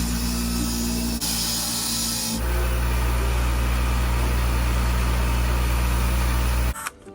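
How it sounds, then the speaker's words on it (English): A wire brush polishes a National Cash Register with light pressure: a steady motor whir with a bright, gritty hiss that shifts in tone a couple of times, then cuts off near the end. "The wire brush is basically doing all the work."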